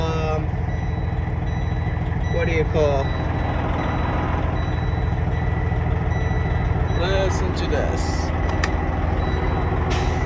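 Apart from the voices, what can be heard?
2012 Freightliner Cascadia truck with Detroit Series 60 engine running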